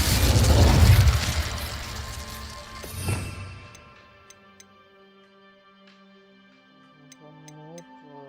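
A fire spell is cast in a video game, opening with a loud, fiery burst and a second whooshing blast about three seconds in. It then fades into quiet game ambience with faint ticking tones.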